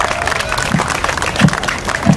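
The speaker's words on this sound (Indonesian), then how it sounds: "Tepuk tangan untuk kita semua." Applause from an outdoor crowd at the opening of a village volleyball tournament, a dense steady patter of clapping with a few louder thuds, heard close and continuous.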